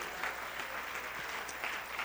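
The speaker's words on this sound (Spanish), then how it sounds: "Alguien dale ese aplauso al Señor en esta mañana" A church congregation claps steadily together, a dense, continuous round of applause filling the whole moment with no one speaking over it.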